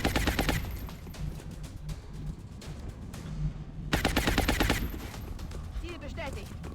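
Suppressing gunfire in the video game XCOM Long War comes in dense automatic bursts, loud at the start and again after a short lull, with quieter game sounds between.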